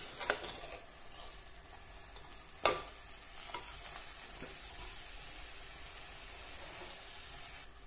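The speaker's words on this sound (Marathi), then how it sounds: "मिक्स करून घेऊ त्यामध्ये" A masala mixture is stirred in a pan with soft, continuous scraping and a light sizzle underneath, one sharp utensil knock standing out partway through, all fairly quiet and close with no talking.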